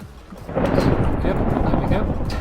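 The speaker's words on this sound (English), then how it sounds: "It doesn't look like normal rain, it looks like a thunderstorm." Thunder rumbles through a video game thunderstorm, a broad low roll that swells after half a second and holds heavy and loud, with rain noise underneath.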